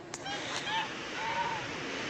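A goose honks faintly at a rural village farmyard, giving a couple of short nasal calls over soft background noise in a brief moment.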